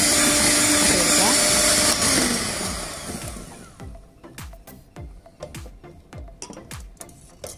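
An electric mixer beats white forest cake batter with lemon juice, whirring loudly for a few seconds before stopping, followed by a string of sharp taps and clicks; a voice may be talking underneath.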